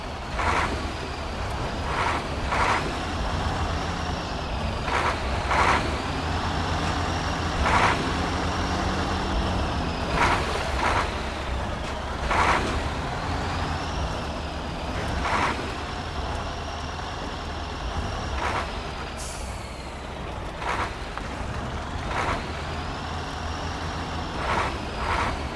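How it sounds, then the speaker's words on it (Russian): A KamAZ-4310 truck in the winter Siberia map of Spintires MudRunner drives with a steady, loud diesel drone, the engine pitch rising and falling in slow repeated swells while short clanks and bumps break in now and then. "этим КАМАЗом поедем на дальняк."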